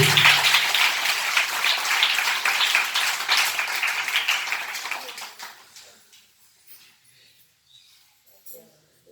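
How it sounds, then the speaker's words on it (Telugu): An audience at a Telugu Christian sermon claps hands in a loud, dense burst that carries for about five seconds, then thins out and fades to near silence. "చప్పట్లో కొట్టి"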